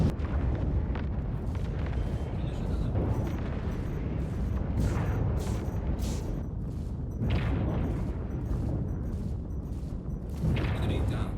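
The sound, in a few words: M2 Hercules ship destroyed in Star Citizen video game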